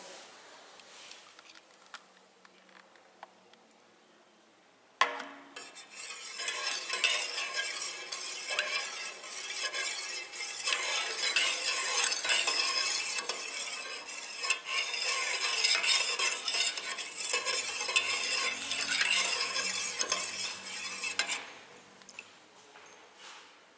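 A spoon stirs a spoonful of homemade curd into cooled milk, giving a quiet start and then a long, busy stretch of continuous scraping and clinking against the vessel before it stops abruptly.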